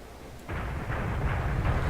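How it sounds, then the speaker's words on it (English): Bombs exploding in the War Thunder combat game, a dropped payload from a friendly bomber hitting a bombing zone: after a quiet half-second, a sustained deep rumbling roar of blasts builds and rolls on without talk. "Bombs going off."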